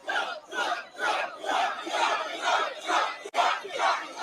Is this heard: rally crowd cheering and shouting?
yes